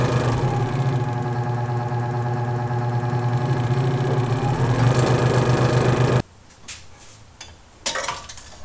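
A Central Electric scroll saw from Harbor Freight cuts 3/4 inch wood with a loud, steady buzzing reciprocating drone for about six seconds. It then stops abruptly, leaving a quiet room with a couple of brief knocks and clatters.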